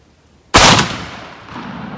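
A single loud, close 20 gauge shotgun blast fires a paper-hull black powder shell loaded with 1 1/8 ounce of chilled number 6 soft lead shot, with no buffer. A sharp crack is followed by a long rumbling decay.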